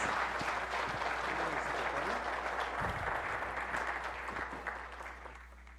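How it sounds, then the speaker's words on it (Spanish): Audience applause at an award presentation during a conference and agreement signing, a dense, steady clatter of many hands clapping nearby for several seconds before tapering off toward the end. "le brindamos un fuerte aplauso, si son tan gentiles"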